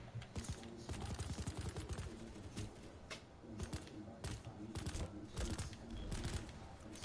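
Suppressed pistols with laser sights fired in Planetside 2: a fast series of muffled, clattering shots in quick bursts, fairly close, with brief pauses between volleys and no talking.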